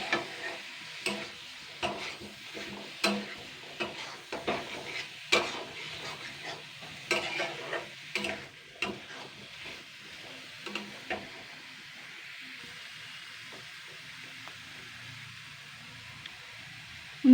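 Potatoes fry in a hot pan while a spoon stirs and scrapes them, a run of irregular clattering strokes over a soft sizzle that fades to a quiet, steady hiss.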